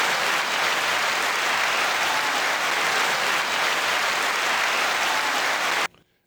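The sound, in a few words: applause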